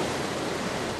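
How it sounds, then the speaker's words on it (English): Water rushing and pouring in from the video game The Forgotten City, a dense, steady roar like heavy surf that fills the whole moment at a constant level. "Water's coming in."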